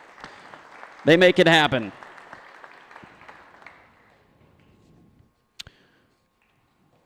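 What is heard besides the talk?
audience applause for sponsors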